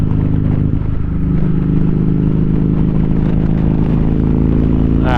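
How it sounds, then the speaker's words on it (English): A Kawasaki Vulcan Voyager motorcycle engine accelerates while merging onto an interstate, a loud, close, steady low drone that rises slightly in pitch with a brief dip near the start. "Merge onto an interstate. Getting a good run, up shift"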